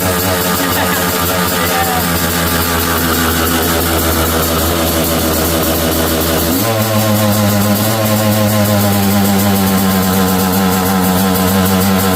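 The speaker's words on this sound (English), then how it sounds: "Bit of a high idle." A 2023 Yamaha YZ125X two-stroke dirt bike engine holding a high idle, a loud, steady buzzing drone that shifts pitch slightly partway through, running alone without talk.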